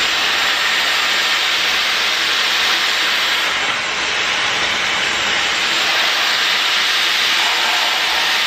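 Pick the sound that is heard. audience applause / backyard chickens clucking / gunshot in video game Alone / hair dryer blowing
hair dryer blowing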